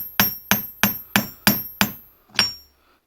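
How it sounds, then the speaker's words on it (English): Seven light hammer blows tap a part of a Pietta 1860 Army revolver during a loose arbor repair, six sharp, close metallic knocks in an even rhythm, then a short pause and a final tap before quiet. "Hit it with very light blows while rotating it."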